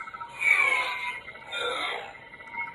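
Two smooth electronic swooshes from a swung toy Dark Saber lightsaber that rise and fall, each about a second long, followed by a softer hum at the end.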